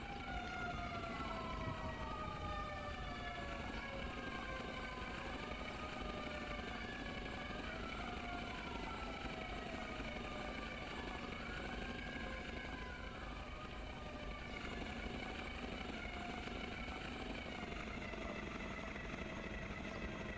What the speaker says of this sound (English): For some reason, that helo sounds messed up.